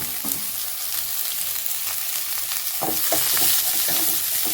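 Chopped vegetables stir-fry in a hot pan for veg fried rice, a loud close sizzle with irregular scraping and tossing of the ladle through the short stretch, no speech heard.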